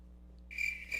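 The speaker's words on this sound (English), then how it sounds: "I think that's his answer, Crickets." A crickets-chirping sound effect comes in halfway through as a sudden, shrill, continuous trill over a low hum, loud and close, with no talking.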